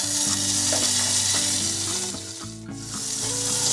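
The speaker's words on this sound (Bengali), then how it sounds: "আমি এখানে চুলায় একটি প্যান গরম বসিয়ে দিয়েছি। এর মধ্যে দিয়ে দেব 1/2 চা চামচ বাটার।" Half a teaspoon of butter sizzling in a hot pan on a stovetop, a steady, loud crackling hiss with a soft musical tone running underneath, easing briefly before swelling again.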